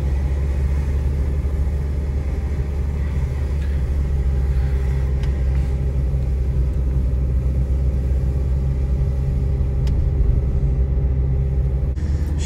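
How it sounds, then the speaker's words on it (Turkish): An older car's engine running close by, heard as a steady, low, continuous rumble with no clear rise in revs. No one speaks. "Bak, gaza basıyorum şu anda."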